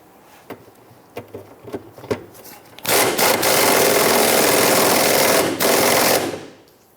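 A power tool tightens the front fuel tank strap bolt on a 2011–2021 Jeep Grand Cherokee. A few sharp clicks and taps come first, then a loud, close, buzzing run of about three seconds, a brief break, and a final burst that winds down.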